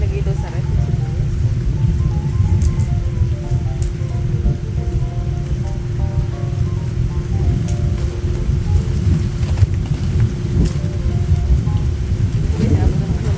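A heavy rainstorm during a typhoon roars steadily, with dense rain hiss and low rumbling thunder filling the whole stretch without pause.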